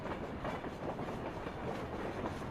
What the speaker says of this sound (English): As it moved down the grade, the train picked up speed.